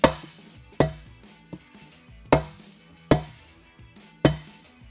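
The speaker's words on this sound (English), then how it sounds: "you can grab a rubber or plastic mallet." A rubber or plastic mallet striking the inner rim shell of a Hutchinson beadlock wheel mounted on a 37x12.50 Nitto Trail Grappler tire: six sharp, close blows at a steady, unhurried pace, each ringing briefly, with no talking.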